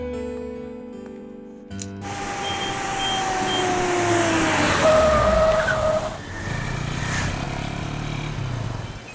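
A new car speeds off and skids, its engine revving up loudly and then sweeping down as tires screech and the sound fades briefly before rising again, in a dramatic movie scene with background score.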